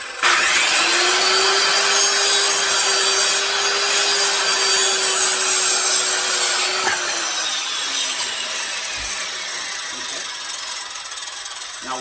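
Wood boards being cut for a homemade fishing line spooler, a loud, steady power-saw whine that holds for several seconds and then drops in pitch as the cut finishes, close and with no talk.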